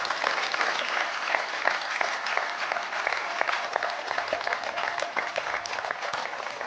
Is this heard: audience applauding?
yes